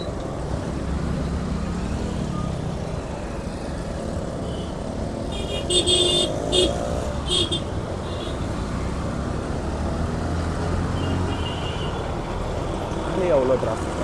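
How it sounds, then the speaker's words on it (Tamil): Dense, heavy road traffic around a moving motorbike: a continuous engine and wind rumble, with a cluster of car horns honking near the middle and someone talking over it throughout. "ஹெக்டிக்கான டிராஃபிக் இப்போ."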